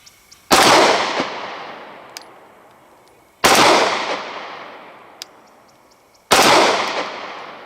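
Three loud, sharp gunshots from a Walther PPQ pistol ring out about three seconds apart, each with a fast crack and a reverberant decaying tail, with no talk between them.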